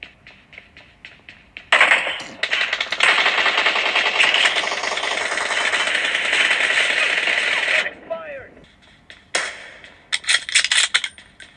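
Rapid sniper rifle gunfire in a mobile shooter game, played on an iQOO 9T phone: a long dense burst of loud cracking shots, a short pause, then further sharp bursts near the end, over faint background game sound.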